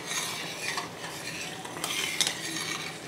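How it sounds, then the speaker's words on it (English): Simmering sauce for shrimp scampi pizza being stirred, soft continuous scraping with light utensil clicks over a faint bubbling sizzle. "You want to make sure that you keep stirring because you don't want it to burn."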